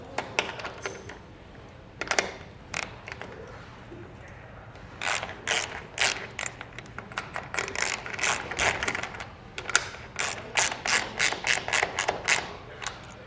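A ratchet tightens the nut on the mounting bracket of a Buyers Products LED flood light, giving rapid bursts of sharp clicking, close and loud, in irregular runs separated by short pauses; no speech.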